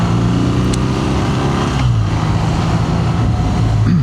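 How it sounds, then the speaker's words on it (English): A BMW R nineT motorcycle with its factory exhaust and a modified engine map gives a loud, steady engine drone close by. The note shifts pitch partway through as the revs change, with no talk over it. "We've still got the factory exhaust system on the bike,"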